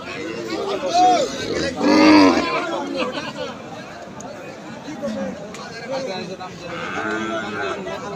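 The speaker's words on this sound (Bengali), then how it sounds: "ডাবা গরু" Cattle at a crowded bull market low in a couple of deep moos early on, heard under loud chatter and people talking nearby.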